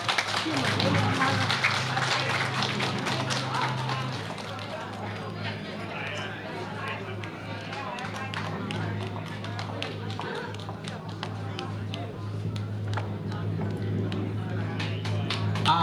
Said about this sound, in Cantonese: 各位熱烈掌聲歡迎焦銀英小姐